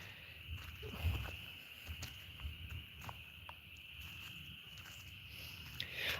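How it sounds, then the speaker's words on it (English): Crickets chirping outdoors at night, a faint continuous high trill running steadily in the background with soft scattered rustles and thumps nearby, no speech. "Don't know if y'all can hear that in the background, but crickets."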